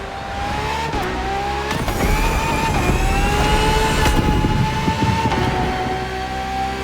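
Ferrari FXX-K track car in The Crew Motorfest racing game, its engine roaring loud and close at a steady high pitch, with brief shifts and dips in tone and a sustained wail that holds throughout.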